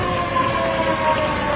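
Fire engine siren wailing steadily and loud throughout, a sustained rising-falling tone over a busy background.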